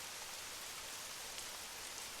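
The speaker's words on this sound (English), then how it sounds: "you step back outside into the light, misty rain" Light, misty rain falls outdoors as a steady, even hiss of fine drops, soft and continuous with no voices.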